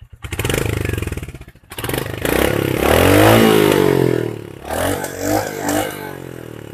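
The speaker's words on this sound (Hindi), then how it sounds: "एक बार इसकी एग्जॉस्ट साउंड को सुनते हैं" A Royal Enfield Hunter 350 motorcycle exhaust thumps and revs up close, with a rapid throbbing idle, a rising rev that sweeps up then falls, and a few loud blips that die away again.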